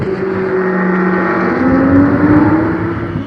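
A Porsche race car, number 35, brakes for the Adélaïde hairpin at Magny-Cours and then accelerates. Its loud, close engine drones steadily and then climbs in pitch as it pulls away.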